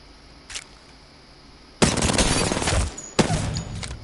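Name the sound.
gunfire from an overpowered gun in the video game Apex Legends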